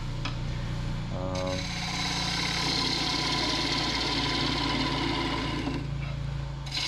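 A sharp gouge cuts a maple bowl on a spinning wood lathe, making a steady close shaving and rasping hiss over the low hum of the motor, with a brief catch at the start of the cut.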